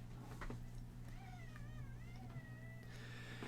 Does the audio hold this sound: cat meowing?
yes